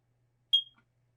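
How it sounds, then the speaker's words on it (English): A carbon monoxide detector in a 2026 Newmar Canyon Star motorhome gives one short, sharp, high-pitched test beep that cuts off quickly, with near silence before and after. "you get the warning sound, and you get the LED light flashes"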